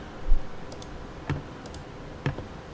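Two sharp, isolated clicks about a second apart, consistent with a computer mouse being clicked on images in a design program, heard close up over a faint steady background with no talk.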